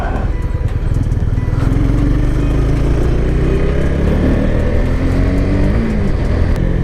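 A Honda CB150X motorcycle engine roars steadily and loudly while riding, its pitch rising and shifting as it revs through the gears.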